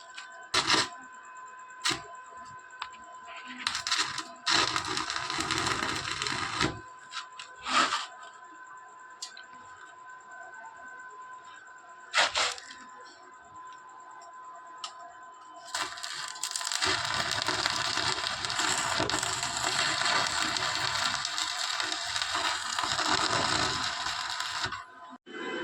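A motor is welded onto the scrap-built frame of a homemade electric mini jeep: short bursts of harsh crackling hiss start and stop, then settle into a long, loud, steady sputtering burn near the end, with no talking.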